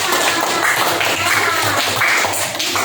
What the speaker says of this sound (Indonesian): Terima kasih tepuk tangan untuk itu